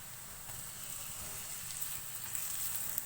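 Five or six finely chopped green chillies frying in a pan over a medium flame, a soft steady sizzle with faint crackles throughout, fairly quiet and without talk.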